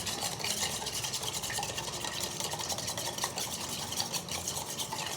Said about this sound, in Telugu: కొంచెం నురుగు వచ్చేంత వరకు ఒక స్పూన్తో అయితే ఇలా కలపండి